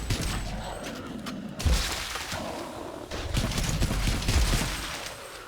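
A flak rifle fires in the ADACA Zone Patrol video game, heard as dense, loud bursts of rapid crackling shots that swell near the two-second mark and again toward the end, with no pauses between them.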